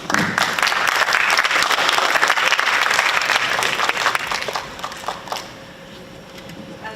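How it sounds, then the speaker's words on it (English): Audience at a sport conference keynote applauding the presenter, a dense sustained clapping that holds strong for about five seconds, then thins and fades into scattered claps. "with your applause, I'll say thank you to our excellent presenter"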